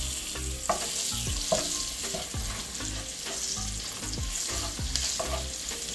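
Garlic stir-fried in a pan with curry powder: a steady, dense sizzle with repeated scraping strokes of a utensil turning the food in a regular rhythm, close and loud, with no voices.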